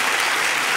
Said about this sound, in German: Also nochmal Applaus für unsere Polizeimusik